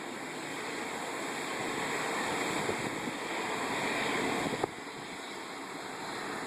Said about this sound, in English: the water is just gushing out of the river